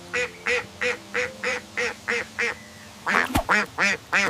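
A duck quacks in a regular series of about a dozen nasal quacks, evenly spaced at first and then quicker and louder near the end, close and clear.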